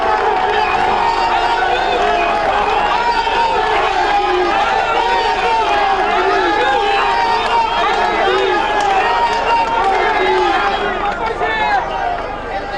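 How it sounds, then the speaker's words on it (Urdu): Party workers gather at a condolence reference in Chakwal, with a dense, loud crowd of many voices shouting and chanting together continuously, a constant roar of excited voices. "جو کارکنان ہیں ان کی جانب سے جوش و خروش کا اظہار بھی کیا جا رہا ہے اور نعرے بازی کی جا رہی ہے"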